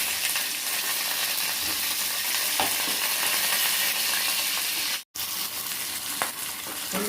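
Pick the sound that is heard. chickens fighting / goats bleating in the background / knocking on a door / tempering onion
tempering onion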